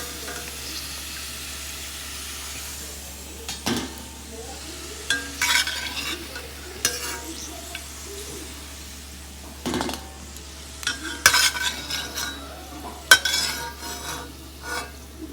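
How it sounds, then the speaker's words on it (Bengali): Fuchka puris frying in a pan of oil give a continuous soft sizzle, broken by scraping and clinks of a utensil stirring and turning them, with no talk. "এখন আমি এই ফুচকাগুলো ভাজছি"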